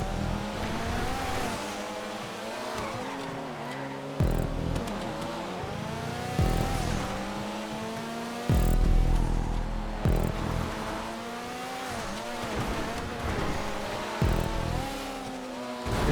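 A rallycross car in GTA 5 revs hard and shifts repeatedly, its engine note rising and dropping in quick surges with bursts of tire squeal, loud and close, with no voices.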